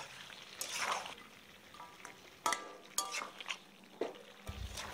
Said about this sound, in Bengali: এবারে একটু নাড়াচাড়া করে রান্নাটা মাখা মাখা করে ফেলতে হবে